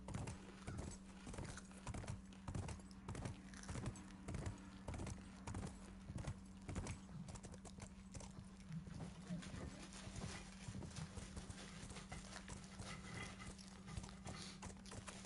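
Steady clip-clop of horse hooves ridden through a university campus in the video game The Last of Us, a continuous close rhythmic trotting over a low constant hum, with faint game voices in the background.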